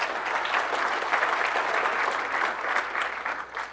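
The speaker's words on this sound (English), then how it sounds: "Somebody was clapping on the room." Audience applause fills a conference session room at a Microsoft Ignite 2016 developer talk, steady dense clapping from many hands, moderately close, with no speech over it.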